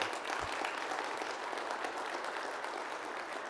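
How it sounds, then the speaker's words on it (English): An audience at a university autonomous vehicle seminar gives a round of applause for Jen Schlegel, a steady, moderately quiet patter of many hands in a room, continuous throughout with no talking. "Round of applause, please, Jen Schlegel"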